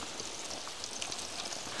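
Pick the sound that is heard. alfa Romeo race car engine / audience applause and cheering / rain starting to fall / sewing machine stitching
rain starting to fall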